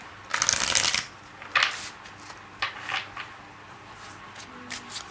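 Whispers of Love oracle cards being shuffled: one long, loud riffling burst followed by several shorter, softer shuffles spaced about a second apart, with no voices.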